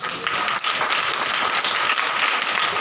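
A congregation at a Hindi Bible study gathering claps together, a loud, continuous patter of many hands that starts abruptly and holds steady for nearly three seconds.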